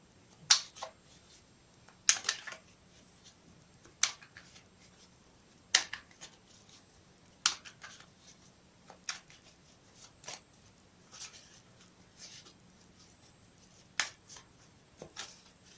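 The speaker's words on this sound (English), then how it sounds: "I will shuffle them again for you on camera." Radiant Rider-Waite tarot cards are shuffled in short, crisp riffles repeated every second or two, close and fairly quiet against a near-silent background.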